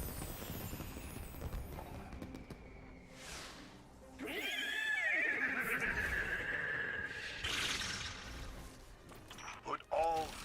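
A horse whinny from the Destiny 2 video game rings out loud and near, rising and wavering, amid busy game sound and music, with a second shorter neigh near the end.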